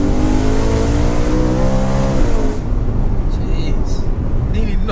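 A car engine screams up to nearly 9,000 RPM, a loud sustained rev with rising harmonics that drops off midway, followed by lower engine rumble and brief bursts of noise.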